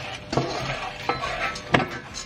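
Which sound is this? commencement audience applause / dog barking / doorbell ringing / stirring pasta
stirring pasta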